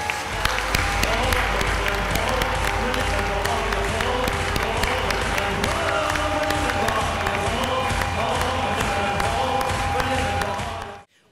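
Audience applause for award winners at a city awards ceremony in Glasgow, sustained clapping from a crowd with some cheering and voices mixed in, cutting off abruptly at the end.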